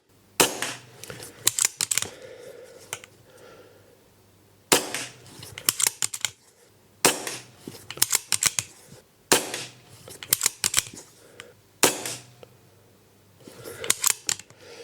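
Air rifle shots fired at targets, a run of sharp cracks each followed by a quick cluster of smaller clicks and rattles, close and loud, repeating in separate bursts with quiet gaps between them.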